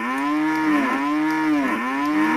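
Several cattle low together in long overlapping moos, loud and close, their drawn-out calls sliding up and down in pitch with no pause across the whole stretch.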